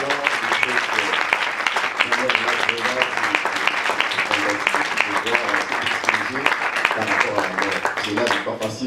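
A church congregation applauds during a sermon, a dense, steady wash of clapping running the whole time over music-like tones and talk.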